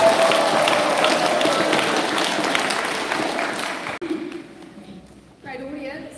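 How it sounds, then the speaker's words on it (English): Audience at a school speech competition applauding, a few seconds of loud crowd clapping that cuts off abruptly, followed by a person speaking. "Let's just play a round of applause for our DPS."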